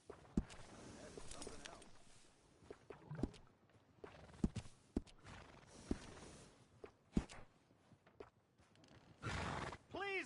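Horse sounds at a stable in the Red Dead Redemption 2 video game: scattered hoof thuds and snorts, then a loud whinny near the end, heard alone without talk.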